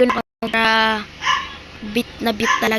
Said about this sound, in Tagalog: may aso dyan na tumatahol